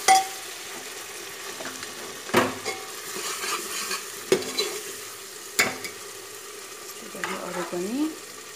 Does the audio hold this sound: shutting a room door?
no